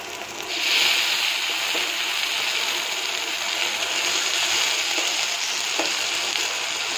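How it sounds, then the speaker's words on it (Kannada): Ground masala with raw garlic and ginger fries in hot oil, a loud steady sizzle that holds for several seconds with faint stirring, no voices. "ಅದಕ್ಕೋಸ್ಕರ ನಾವು ಕಡ್ದಿರುವಂತಹ ಮಸಾಲೆಯನ್ನು ಕೂಡ ಚೆನ್ನಾಗಿ ಹುರ್ಕೊಳ್ಬೇಕು."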